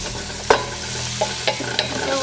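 Chopped onions and curry powder sizzling in a hot pan for pumpkin buttercup squash soup, a steady close frying hiss broken by a few scraping stirs of a utensil, with no talking.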